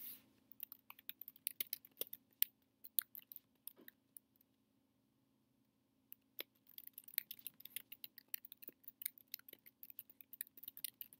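Quiet, scattered clicks of typing on a computer keyboard, entering a short survey description, come in irregular bursts with a long pause midway, under a faint steady hum.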